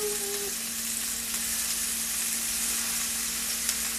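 Big shrimp fry in a pan with a dense, even, close sizzle and hiss that holds steady throughout, with no talking.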